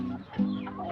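Chickens and a female junglefowl cluck while pecking at scattered cooked rice, giving a short run of close, low clucks with one louder cluck near the middle.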